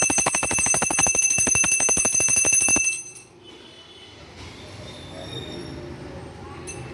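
A hand bell rings steadily and loudly in rapid repeated strokes during a home aarti for Sharad Purnima, then stops abruptly, leaving quieter room sounds and faint voices.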